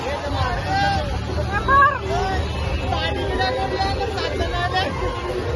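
A dense crowd at the Vajreshwari palkhi procession: steady, close babble of many overlapping voices with no single voice standing out, plus a soft constant hum behind it.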